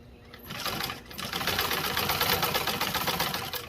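A commercial sewing machine runs nearby, binding automotive carpet edges. It makes a rapid, steady mechanical whir with fast rhythmic stitching that continues briefly and speeds up after a short pause.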